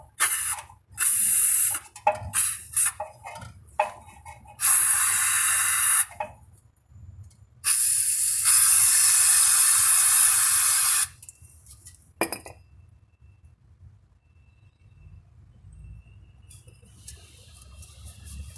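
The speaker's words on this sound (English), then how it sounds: "Time to clean the hole with brake cleaner." Brake cleaner sprayed into the ABS sensor hole on a 2012 VW Tiguan AWD, loud hissing bursts of spray, several short ones followed by a longer blast of about three seconds, with clinks and quiet gaps between.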